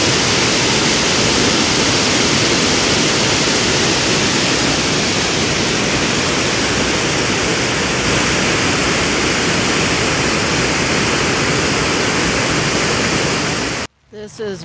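Water rushes at Jackson Lake Dam in Grand Teton National Park, a loud, dense roar that holds unbroken and close for nearly the whole stretch before cutting off abruptly near the end.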